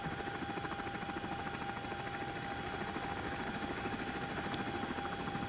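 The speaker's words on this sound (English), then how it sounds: "And now that we have this helicopter started" A simulated CH-47D Chinook helicopter in X-Plane 12 runs with its engines started, giving a continuous, even rotor thrum and a steady whine at moderate volume, with no talking.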